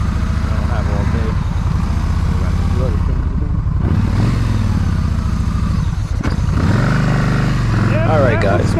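A motorcycle rides along an open road in the fall, its engine droning steadily under heavy wind rush, with a brief dip near the middle and a voice surfacing faintly now and then.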